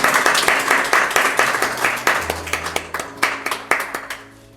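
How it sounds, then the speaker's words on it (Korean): Church congregation clapping together to celebrate a deacon's seventieth birthday, a dense, steady burst of many hands applauding in a room that fades out at the end. "우리 한영, 박수로 한영"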